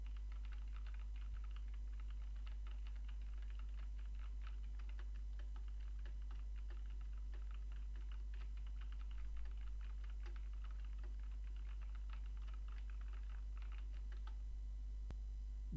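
Keys clack steadily on a keyboard fitted with Kailh Brown switches, about 30 centimeters from a Marvo Scorpion HG8805 headset microphone, a continuous run of soft, faint, distant taps over low hum.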